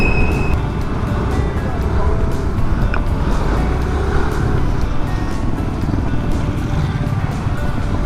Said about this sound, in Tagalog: So traffic.